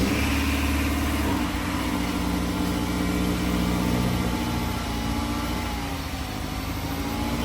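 Honda S2000 engine cold start outdoors, a steady mid-pitched engine hum with a shift in tone about a second in, then an even running drone throughout, heard from a short distance without talk.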